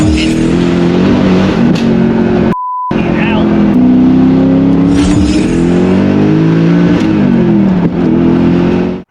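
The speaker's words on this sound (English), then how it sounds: "This is a badass, old school, turbocharged car." An old-school turbocharged Noble M600 supercar engine roars loudly and continuously, pitch climbing and dropping as it revs through gears, with a brief break and turbo whooshes.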